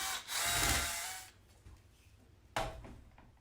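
Cordless power drill driving a screw tight through an aluminum rod while assembling a four-layer grow out pen, heard as one loud close whirring burst that then cuts off, followed later by a second short spin.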